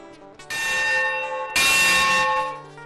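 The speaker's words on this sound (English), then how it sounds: "This bell is from the Manistee and Northeastern Railroad engine, number 18." Bell from Manistee and Northeastern Railroad steam engine number 18 rung by hand, two loud ringing strikes about a second apart, each leaving a long bright metallic decay, no talking.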